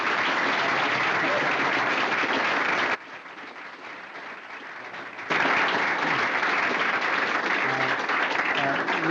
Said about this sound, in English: let's give them a really rousing round of applause.